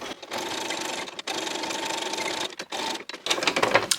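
A sewing machine stitches a fabric heart in fast, rattling bursts, with three longer runs separated by short pauses and a busier, clattering final stretch, all close and fairly loud.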